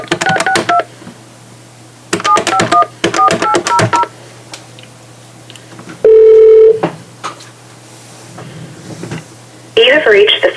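Touch-tone keypad dialing a phone number for a federal prison in Yazoo City, Mississippi: loud bursts of rapid beeps in groups, then a steady line tone, with someone talking between the bursts.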